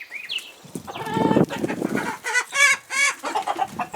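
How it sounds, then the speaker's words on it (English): Roosters cluck and squawk up close on a homestead, a run of repeated calls rising into louder, harsher bursts toward the end. "You still have 4 roosters."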